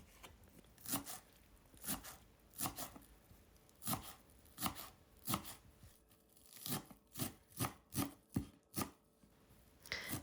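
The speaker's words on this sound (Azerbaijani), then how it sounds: "yarım dəstə də şüydü də xırda-xırda doğrayıram və 100 qram qozu da doğrayıram" Fresh dill and walnuts being chopped finely for a salad: a steady run of knife strikes on a board, regular and close, speeding into quicker cuts near the end, with no voices.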